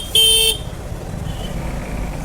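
A short car horn blast rings out over dense road traffic, heard from a Suzuki Gixxer SF 250 motorcycle. A steady low rumble of engines and city noise follows the honk.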